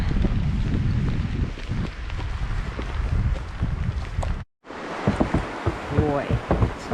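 Heavy rain and gusting wind batter a microphone outdoors on a July ride through Deeside, a dense, rumbling roar of wind buffeting and rain that briefly drops out, then returns with a voice speaking under it.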